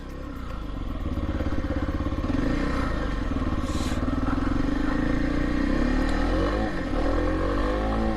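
A motorcycle engine rumbles steadily throughout, with a low throbbing drone rising slightly in pitch as it moves, plus faint clatter; no talking.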